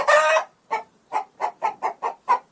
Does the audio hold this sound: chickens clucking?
yes